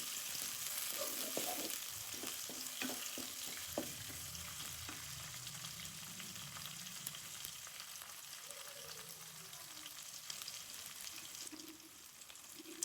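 Bay leaves frying in hot oil, a steady soft sizzle running throughout with occasional stirring clinks, no voices.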